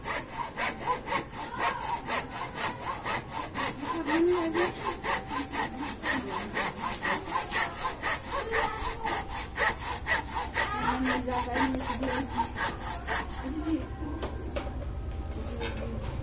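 A hand saw works through bamboo rhizome to shape a polo ball, with steady, rhythmic back-and-forth rasping strokes, close and continuous throughout.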